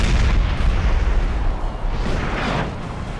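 Artillery fire in the video game Napoleon: Total War, a dense rumbling barrage of booms and blasts that is loud and continuous throughout, with no voices.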